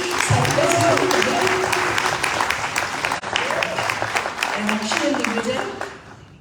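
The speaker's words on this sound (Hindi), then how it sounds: "जोरदार तालियां एक बार हमारी" Loud audience applause fills a seminar hall, steady dense clapping with voices mixed in over it throughout.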